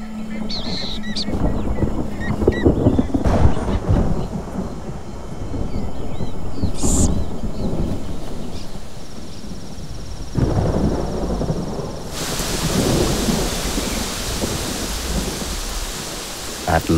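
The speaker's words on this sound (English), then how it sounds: "At long last, the rains arrive." Heavy downpour during a thunderstorm in Colombia at the start of the rainy season, steady dense rain with rumbling thunder rolls throughout, growing louder and harsher near the end.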